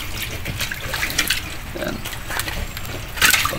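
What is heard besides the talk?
water trickling out of a washing machine drain hose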